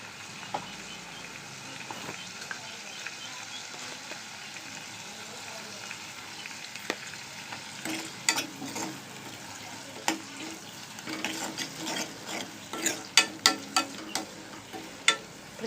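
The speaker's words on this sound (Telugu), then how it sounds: "ఇప్పుడు బాగా ఇవి కొంచెం బాగా వేగాలి." Onion, green chillies and curry leaves fry in a pan with a soft, fairly quiet sizzle. Sparse utensil clicks grow more frequent and louder toward the end.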